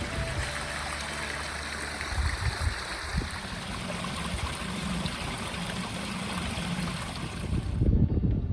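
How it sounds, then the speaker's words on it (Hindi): Cold snowmelt water rushing down a highland mountain stream, a steady broadband burble and hiss that stays fairly loud and constant, with a few louder splashes near the end and no voices. "ये बर्फ़ का पानी ऊपर से बहता हुआ आ रहा है"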